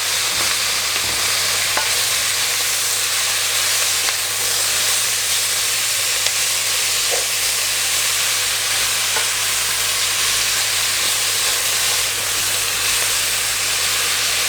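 Minced pork and Chinese cabbage stir-fry in a hot pan with a loud, continuous sizzle and hiss that never lets up, close by and with no voices.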